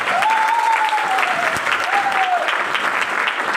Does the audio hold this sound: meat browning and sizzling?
no